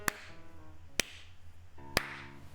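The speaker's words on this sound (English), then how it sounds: "Oh, it's a slow clap." A witch's slow clap in the Umineko visual novel game, three sharp, isolated hand claps spaced about a second apart over a quiet low musical drone.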